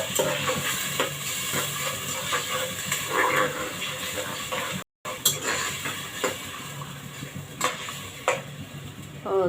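A spice mix hits a hot pan and sizzles steadily, with scraping and clinks from stirring against the metal, close and fairly loud, a brief silent gap midway, then the hiss resumes.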